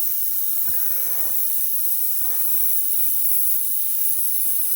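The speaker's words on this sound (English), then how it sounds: "I have a Caribe Blue in my airbrush." A continuous close hiss of Caribe Blue candy paint sprayed through an Iguana Micron airbrush with a 0.23 nozzle, steady and fairly loud with slight swells.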